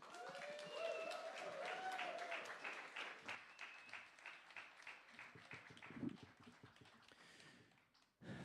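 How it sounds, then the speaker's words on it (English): Audience members at The Bedford clap to welcome first act Tony Moore, a moderate spell of applause that thins into scattered individual claps and taps, with a voice or tone audible at the start. "maybe you put a little extra love and energy into your applause, and welcome to the stage our first act"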